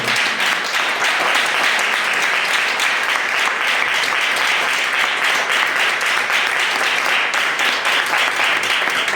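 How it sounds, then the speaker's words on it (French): A church congregation applauds loudly and steadily, dense clapping from many hands that fills the room without a break. "Et nous acclamons très fort le Seigneur ce matin."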